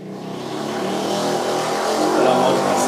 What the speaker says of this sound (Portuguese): Para a moto passar.